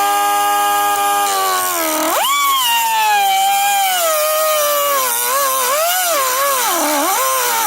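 Power tool cutting a bolt on a 1987 Corvette, a loud, continuous high whine that dips and then rises as the blade bites in, wavering in pitch under load, close up.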